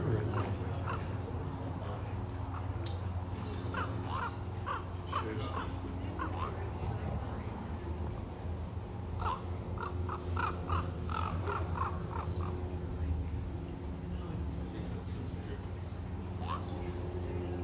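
Repeated harsh bird calls, like a red-tailed hawk's scream or a bird mimicking it, come in bursts over a steady low hum in a river valley, with some talking mixed in.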